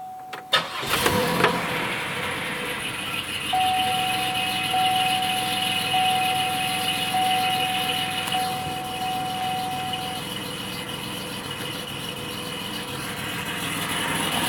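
A car engine fitted with an XP cam, ZZP CNC heads, headers and a 3-inch uncapped downpipe cranks and fires up, then settles into a loud, steady idle with a raspy exhaust tone, heard alone with no talking.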